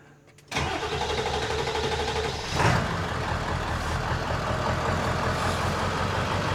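An ambulance truck's engine cranks briefly and catches, then settles into a steady, loud idle with a rough mid-range rumble, a short surge in revs partway through, no voices over it.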